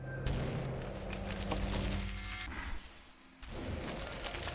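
Enemy gunfire in the VR on-rails shooter Dexed, rapid bursts of shots and impacts that fill most of the moment, dropping briefly before resuming loudly.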